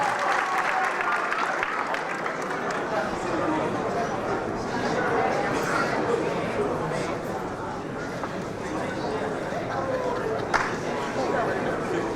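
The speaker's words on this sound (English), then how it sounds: "A round of applause for your third finalist, Tatiana." A pageant audience applauds a finalist: dense, sustained clapping from a large crowd fills the whole stretch at a steady level, with faint chatter mixed in.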